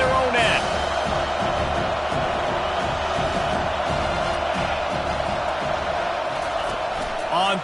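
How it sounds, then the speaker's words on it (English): A stadium crowd roars steadily at a Penn State vs Wisconsin college football game, a dense continuous wall of cheering with a brief whoop near the start, while a commentator talks over it. "The roar of the crowd trying to fuel this defense to keep them pinned in their own end."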